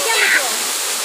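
A waterfall roars with a steady, dense broadband rush throughout, loud and continuous with no breaks; a faint voice may sit beneath it.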